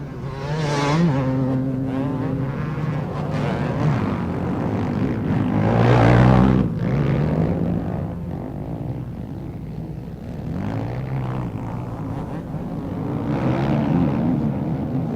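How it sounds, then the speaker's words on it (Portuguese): 250cc motocross motorcycles race at a 2004 Brazilian championship round, their engines buzzing and revving in rising and falling waves as bikes pass close by, loud and continuous with no talk. "Roosevelt tem a moto 4, o Balbi a moto número 1"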